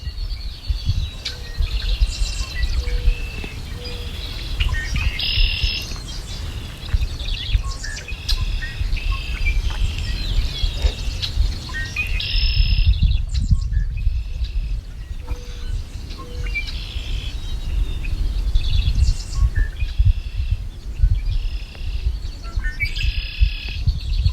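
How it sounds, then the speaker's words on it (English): Birds chirp and trill in bursts over a steady bed of insect and cricket buzzing along the Katy Trail, the calls fairly close and continuing throughout with no talking. "I swear I feel like I'm in a Star Wars movie with the way these birds are sounding."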